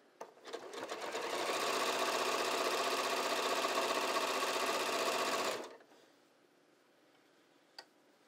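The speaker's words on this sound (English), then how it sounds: "I'm just using that triple zigzag. A regular zigzag, and I'm just sewing through just that turned under edge." A sewing machine runs a triple zigzag stitch along a turned-under edge of pull-on pants, a close, steady whirring rattle for about five seconds that stops abruptly, followed by a faint click.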